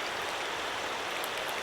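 A river heard on a solo backcountry trip, its steady broadband rush of flowing water continuing evenly throughout with no voices or other sounds.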